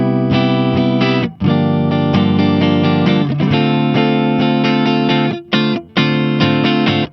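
A loud electric guitar with pickups wired in parallel strums steady chords with short gaps between changes, the tone full and slightly effected, played close and alone without any talk.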